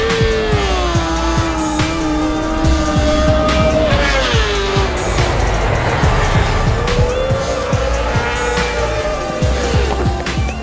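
Honda CBR1000RR-R Fireblade race bike with a new engine doing practice launches: a loud, close engine holds high revs and sweeps up and down, with tire noise, throughout.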